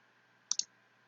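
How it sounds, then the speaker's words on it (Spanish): Two quick, crisp computer mouse clicks close together, sharp and fairly quiet, with no other sound around them. "Hago clic sobre él"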